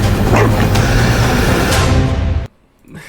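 A person imitates a dog's barking, loud, rough yips and bow-wows packed into a steady burst that cuts off sharply near the end, leaving a brief quiet tail.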